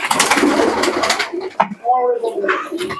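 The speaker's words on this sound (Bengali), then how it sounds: "এক জোড়া কবুতর আছে।" Pigeons cooing close by in soft, low bursts, mixed with some rustling and brief voices.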